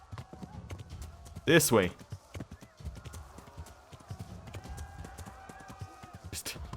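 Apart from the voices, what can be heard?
horse hooves while riding, from video game Kingdom Come: Deliverance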